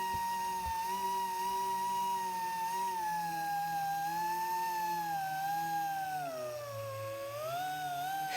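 Small polisher running at low RPM with cutting compound, a steady whining hum with a slowly wavering pitch that dips briefly near the end, close and continuous with no speech.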